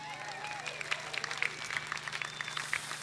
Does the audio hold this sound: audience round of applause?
yes